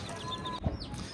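A chicken in a rural village yard gives a brief, soft cluck mid-way, close by, amid faint background bird chirps and no talking.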